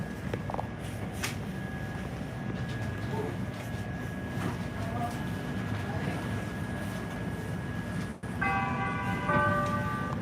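A Chicago L Green Line train carries along with a steady rumbling ride noise and a sustained tonal whine, and a series of higher chime-like tones enters near the end.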